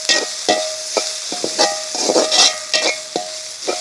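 Garlic and ginger temper in a pan with very little oil, giving a steady close sizzle broken by regular stirring scrapes and light clicks of the utensil against the pan.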